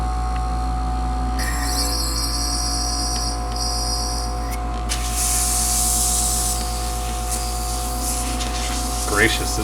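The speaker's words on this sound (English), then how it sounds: "it is still blowing a little bit of primer out of this" A Central Pneumatic airbrush blows primer in a continuous close hiss over a steady low compressor hum, with brief bursts as the spray is adjusted and no talk.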